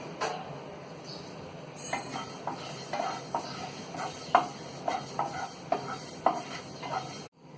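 Cumin and fenugreek seeds fry in a pan for a fish curry, a steady close sizzle broken by sharp spatula scrapes and stirs that come every half second or so, then stop abruptly at the end.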